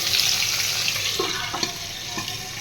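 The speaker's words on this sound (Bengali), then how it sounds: "আলু ভাজা হয়ে গেছে আর এখানে ডিম ভাজি" Egg frying in a pan gives a steady, close hiss and crackle of hot oil, with a few soft scrapes or stirs near the end.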